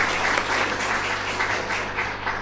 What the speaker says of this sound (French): Je vous demande, mesdames et messieurs, d'applaudir encore une fois Madame le ministre de son allocution.